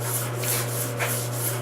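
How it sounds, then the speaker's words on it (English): Very light scuff sanding with 2000 grit sandpaper on the finished surface of a tenor bass under refurbishment, a soft steady rubbing with gentle back-and-forth swells, close and quiet, with a constant low hum behind it. "just scuff sanding it very slightly"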